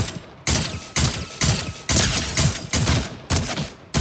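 Rapid gunfire from a fast-shooting weapon in the Fortnite video game, eight or nine loud close shots at an even rhythm of roughly two per second, each with a brief decay, no talk.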